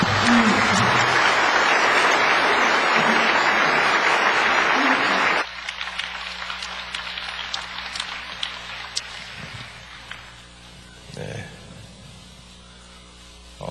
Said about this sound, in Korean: 이제 김 목사님 나오실 때 여러분 큰 박수로 환영해 주시기 바랍니다